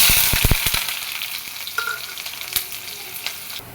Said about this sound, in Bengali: হাঁড়িতে তেল দিয়ে দিছি, এখন দিয়ে দিব সেই কাটা পেঁয়াজ